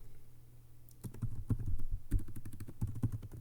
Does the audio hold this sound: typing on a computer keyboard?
yes